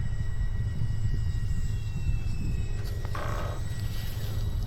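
A small E-flite Draco micro RC plane comes in to land over a grassy rough field, its faint high electric motor whine riding over a heavy low rumble of wind on the microphone, with a brief rise in pitch near the end.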